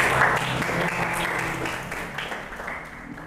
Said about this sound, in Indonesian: Beri tepuk tangan buat Suci ya.